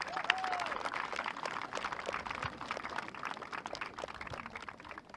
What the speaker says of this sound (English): So a big round of applause for Philip and his team.